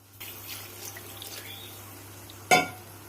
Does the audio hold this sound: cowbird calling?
no